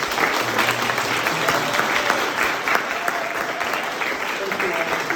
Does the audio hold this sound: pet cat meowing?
no